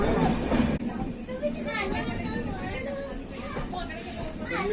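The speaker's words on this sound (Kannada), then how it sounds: "ಹಾಸನದಿಂದ ಸುಬ್ರಹ್ಮಣ್ಯಕ್ಕೆ ಹೋಗ್ತಾ ಇದ್ದೇನೆ ರೈಲಲ್ಲಿ" A passenger train on the Hassan to Subrahmanya line rumbles and hisses steadily, heard from inside among chattering voices.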